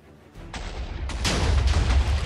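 A trapped chest blowing up in a video game: a sudden boom followed by a rolling, crackling burst of explosive noise that swells louder and keeps rumbling to the end, with no one talking.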